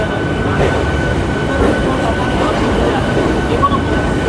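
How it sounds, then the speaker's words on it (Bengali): Eastern Railway local train on the Sealdah–Howrah line gives a steady, loud rumble and hum throughout, with a faint high squeal near the end. "এটা দাঁড়িয়ে রয়েছে ইস্টার্ন রেলওয়ের একটি ট্রেন, লোকাল ট্রেন।"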